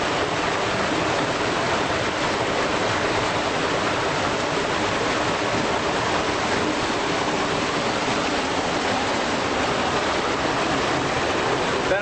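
Steady broadband roar of a waterfall at Crater Lake National Park, a snow-fed creek running beneath it, loud and constant throughout with no talking.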